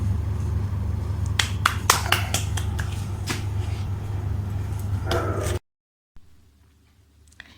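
A three-year-old girl clapping for herself, a handful of sharp hand claps in an irregular burst over steady room hum, ending abruptly in near silence.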